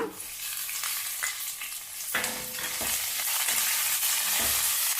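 Onions and garlic frying in oil for a temple-style tamarind rice, with a close, steady sizzle and crackle and a few scraping stirs against the pan.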